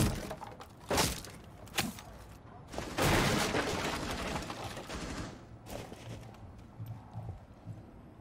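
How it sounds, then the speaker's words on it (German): Sharp explosions and cracking blasts in the tactical shooter game Rainbow Six Siege, with a few separate bangs early on, then a long loud burst with rumbling debris that fades into quieter rattles. "Explosion."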